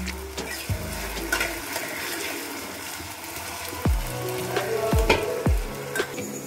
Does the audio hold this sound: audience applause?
no